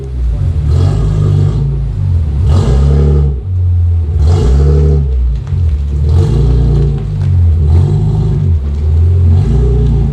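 BMW E46 M3 engine repeatedly revs and eases off during a test drive, a deep, loud, close rumble rising and falling in regular surges, with no talking.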